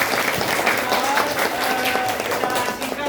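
Group of listeners at a training session clapping together in sustained applause, irregular hand claps layered throughout with a bit of background murmur.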